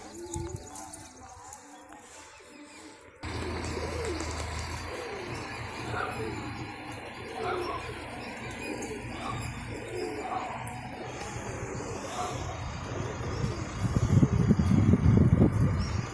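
Pet pigeons coo softly in a steady outdoor murmur, with voices talking intermittently over them and a rougher burst of noise near the end.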